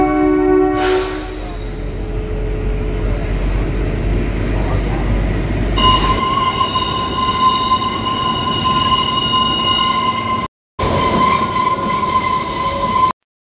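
The Kalka–Shimla toy train runs on narrow mountain rails through hills, tunnels and pine forest, a loud, continuous rumble with sustained squealing wheel tones and rattling wagons, briefly cutting out near the end.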